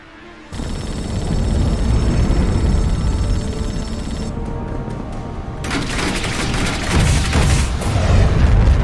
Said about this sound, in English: That's actually gunfire.